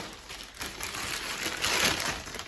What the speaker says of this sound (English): Finally a purpose for my plastic bag full of other plastic bags.